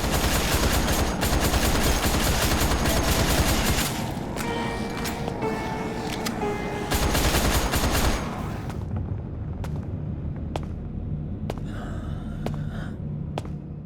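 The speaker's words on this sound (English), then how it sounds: "It's 15 levels of uninspired wave shooting with linear streets and sewers" Rapid automatic gunfire rattles in dense bursts while zombies are shot in the VR game Pancake House, then thins out to scattered single shots over a low game ambience.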